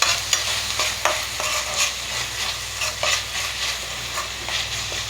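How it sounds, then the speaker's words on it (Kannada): Tomatoes are stirred in a frying pan, a soft continuous sizzle broken by repeated scraping clicks of the spoon at an uneven rhythm, close and alone without talk. "ಈಗ ಟೊಮೊಟೊ ಹಾಕ್ತಾಯಿದ್ದೀನಿ."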